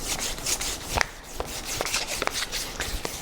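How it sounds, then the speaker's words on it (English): Dry, rhythmic rubbing of 400 grit sandpaper on a dirt bike handlebar, quick scratchy back-and-forth strokes close up and steady, with no talk. "And this is just 400 grit sandpaper."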